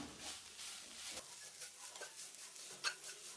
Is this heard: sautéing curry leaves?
yes